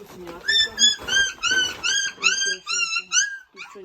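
A Laika puppy whimpers and whines in a steady run of high, close cries during a home weighing and checkup, while a person talks over it.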